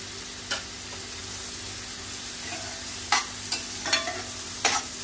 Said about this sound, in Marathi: मीडियम गॅसवरती चांगला मऊ शिजवून घेते कांदा